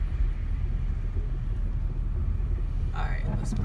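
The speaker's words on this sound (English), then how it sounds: "Alright, let's park the car." A car rolls slowly into a parking spot, a low engine and road rumble running throughout, with a brief burst of louder sound near the end.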